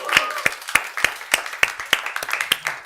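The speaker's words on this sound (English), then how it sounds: "Clap, everyone." A small group clapping in rhythm at a live interview, about ten sharp, evenly spaced claps close by, with faint talk or cheering under them.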